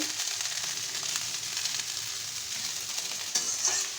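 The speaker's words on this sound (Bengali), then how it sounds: "হ্যাঁ, ভাত ভাজাটা ভালোই হবে, ডিম টিম দিয়েছে।" Leftover rice fries with egg in a pan, a steady close sizzle with a bright hiss, broken by a couple of sharper spatters near the end.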